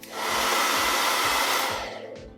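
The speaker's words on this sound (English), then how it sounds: "So I'm gonna try to heat up the Teflon seal with a blow dryer." A hair dryer blows with a loud, steady whooshing roar in a garage, heating a Teflon seal on a BMW N54 fuel injector, switched on briefly and then cut off, close by with no talking.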